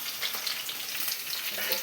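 Garlic tempering fries in hot oil in a pan, a loud close crackling sizzle that runs steadily without pause.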